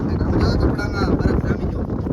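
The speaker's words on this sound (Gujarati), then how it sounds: "તમે આવો ગિરનાર જો આમ જો કેવું પવન આવે." Strong wind blowing hard at Girnar, buffeting the microphone with loud, gusty rumbling and roaring that persists throughout.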